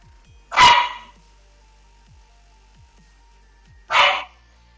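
Two loud, close dog barks, one near the start and another a few seconds later, with quiet background between.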